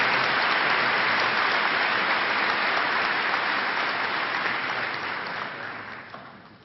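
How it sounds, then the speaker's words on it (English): A high school commencement crowd applauds a valedictorian, dense steady clapping from a large audience that holds strong and then gradually fades toward the end. "the valedictorian medallion to Christopher, please join me in honoring him with a round of applause"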